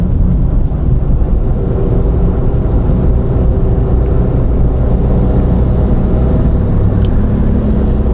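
Car engine under throttle while driving in third gear through a turn during a driving lesson, a steady loud low rumble with road noise running continuously throughout.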